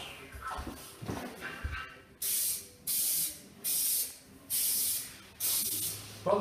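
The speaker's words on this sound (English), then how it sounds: "So I will start by spraying one wall." Liquid is sprayed onto a wall ahead of vinyl installation, heard as five regular bursts of hissing spray from a pump bottle, close and evenly spaced, following some soft handling noise.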